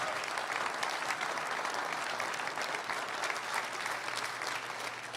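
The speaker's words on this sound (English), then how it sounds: "Let's hear a round of applause for everybody who came out this morning." Steady applause from an audience at a groundbreaking ceremony for an electric carmaker's plant in Chatham County, a continuous moderately loud patter of many hands with no break throughout.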